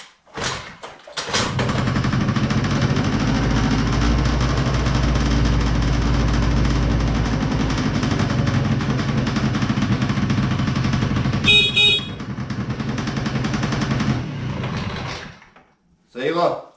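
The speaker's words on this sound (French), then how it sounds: "on va contrôler que ça démarre encore" A GY6 150cc quad engine cranks, catches and runs steadily at a loud, close idle for about twelve seconds, then briefly revs before shutting off, with a few clicks afterward.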